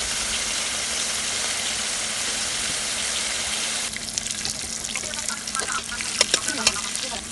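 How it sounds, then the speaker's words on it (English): Seasoned lobster frying in hot oil for lobster fried rice, a loud continuous sizzle and crackle, with denser popping and spatter in the second half. "So we're going to fry our lobster until it is golden brown"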